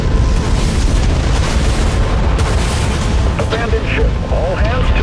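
Broadside guns on a spaceship fire in the Dreadnought game, heavy booming blasts over a dense, loud battle din, with voices talking faintly in the mix.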